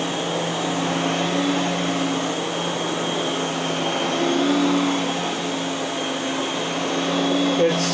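A heavy Miele S7 upright vacuum cleaner drones steadily and loudly as it is pushed across carpet, its motor a constant, close whine with no breaks.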